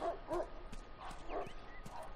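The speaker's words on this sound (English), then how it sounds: "Dogs in a game barking just as much." Dogs barking in The Last of Us Remastered video game, several short yips and barks at a moderate distance over steady ambient game noise.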